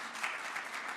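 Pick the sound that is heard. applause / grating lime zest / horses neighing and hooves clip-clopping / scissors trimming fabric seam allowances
applause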